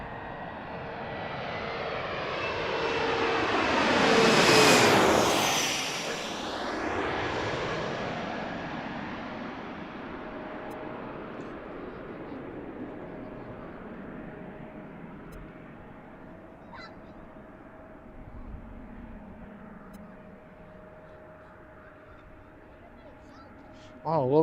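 A jet airliner arrives at Washington DCA, heard from Gravelly Point as a loud engine roar that swells to a peak with a sweeping pitch shift as it passes overhead, then fades into a long rumbling tail.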